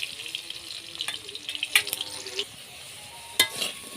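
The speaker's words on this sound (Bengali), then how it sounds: "এখন কেটে রাখা আলুগুলো মাছ ভাজা তেলের মধ্যে দিয়ে ভেজে নেব।" Cut potatoes fry in oil already used for frying fish, a fairly soft sizzle under clinks and scrapes from stirring, with short splashy bursts here and there and no clear speech.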